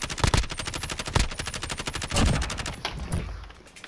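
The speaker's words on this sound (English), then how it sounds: "We're getting shot from behind now." Rapid automatic gunfire in a shooter game, a fast steady burst of dense shots coming from behind, loud and continuous before tailing off near the end.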